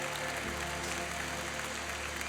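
A church congregation applauds in a continuous, even wash of clapping, moderately distant and steady, with a low hum beneath and no distinct voices.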